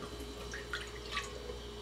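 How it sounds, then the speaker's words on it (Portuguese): Half a cup of water poured into an empty, preheating electric pressure cooker, heard as faint, soft splashes and drips against a low steady hum, with no talking. "Eu vou colocar apenas meio copinho de água."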